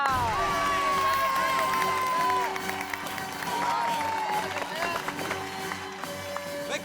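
A crowd claps and cheers, with high excited shouts and children's voices rising over scattered applause.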